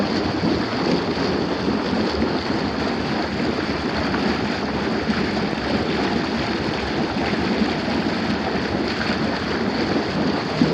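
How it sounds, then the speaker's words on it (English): A jacuzzi by a swimming pool runs its water jets, giving a steady, broad churning and rushing noise that stays even and close for the whole stretch, with no voices. "jacuzzi's rocking here"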